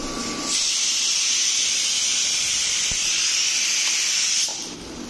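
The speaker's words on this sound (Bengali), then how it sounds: "আমটাকে জলের মধ্যে সেদ্ধ করতে দিয়ে দিয়েছি, আর এটাতে ডাল হচ্ছে" Steady loud hiss of steam rising from a pot where mango boils in water beside cooking dal, a continuous broad rush lasting several seconds before easing off near the end.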